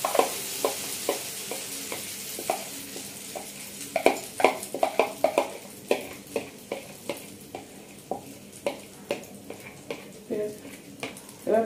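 Semolina and egg batter poured into a pan over low heat gives a soft sizzle under repeated scraping and tapping of a spoon or spatula, with rhythmic clicks against the pan close up.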